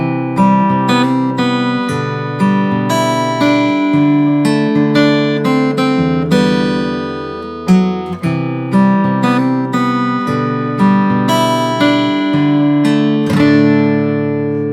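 Fingerstyle acoustic guitar plays the pre-chorus of a song from Kpop Demon Hunters, with ringing plucked chords and a melody over sustained bass notes, close and clear, with no percussive taps.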